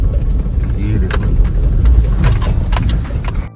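Small car engine labouring up a broken mountain road in the Spiti Valley, a low continuous rumble with rattles and knocks, close and loud, while people talk over it.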